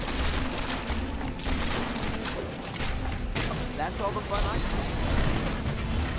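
Rapid gunfire from the video game Marvel Ultimate Alliance 2 on PS3, a dense continuous burst of shots and impacts mixed with game effects while a player talks over it.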